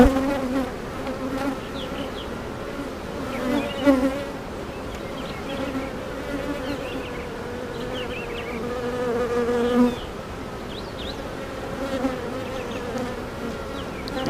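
Honeybees buzz steadily around an open hive during an early May inspection, with a dense, close drone and individual bees rising and falling in pitch as they fly past.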